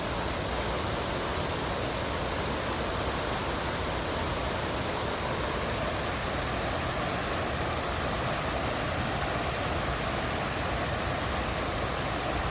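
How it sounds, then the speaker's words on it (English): Waterfall at Wilson Dam, a steady broadband roar of falling water filling the whole clip at constant loudness, with no pauses or other sounds standing out. "look at that waterfall"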